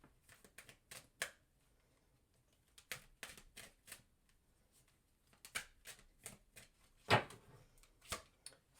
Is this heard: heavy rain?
no